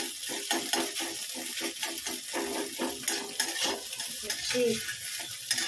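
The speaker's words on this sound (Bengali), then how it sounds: "এই দেখো সবজি ভাজা হয়ে গেছে এরপরে এই মাউমিনটা দিয়ে দেবো" Vegetables for chow mein stir-fry in a pan with a constant close sizzle, broken by rhythmic scraping strokes of a spatula.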